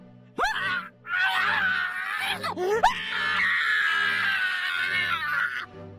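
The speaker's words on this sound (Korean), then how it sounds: "아까와는 비교도 할 수 없으리만치 고통스러운 비명을 내질렀다" A man being tortured screams in agony, with long sustained cries broken by a gasping, wavering break before another drawn-out howl, loud and close.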